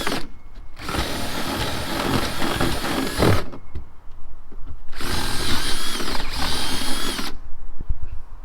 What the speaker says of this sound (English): I took a fat drill, started to drill out the bad wood material in here.